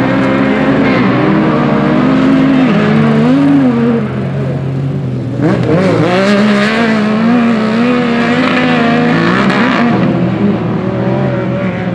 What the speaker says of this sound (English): Every time he shifts, it's backfiring.